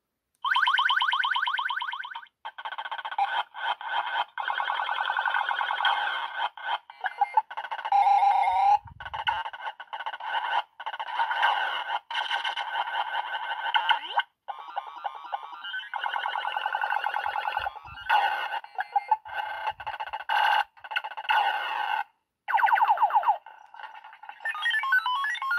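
A Joust arcade cabinet ornament plays game sounds: loud, continuous electronic chirps and warbling synthetic tones with rapid pitch sweeps and brief gaps, up close with no talking.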